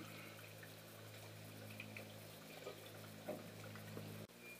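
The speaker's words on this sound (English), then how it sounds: "A bit of water for the bottle." Water running steadily into a bottle at an iron-rich mineral soda spring along a bush track near Blackwood, a continuous low gurgling flow heard close up with no talk.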